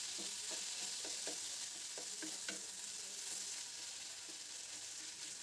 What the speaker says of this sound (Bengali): এইভাবে আর 1 মিনিট নাড়বো